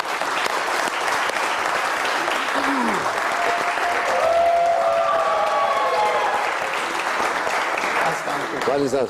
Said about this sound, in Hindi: पब्लिक ने इतना शोर मचाया, तालियां बजाई